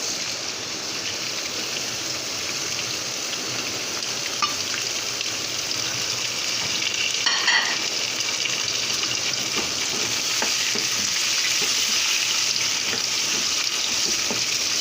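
Chicken with tomatoes frying in a karahi gives a steady, loud broadband sizzle that runs through the whole stretch, with occasional faint stirring scrapes and pops and no voices.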